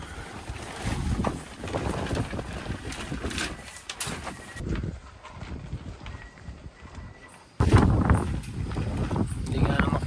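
Strong gusting wind buffets the microphone at a campsite in Tanay, roaring and uneven, with a sudden louder burst near the end and faint voices mixed in.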